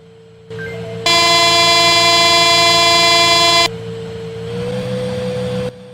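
A loud, sustained train horn from an Indian train simulator video game blares for a few seconds over a steady engine rumble, then cuts off, leaving the low drone of the running train.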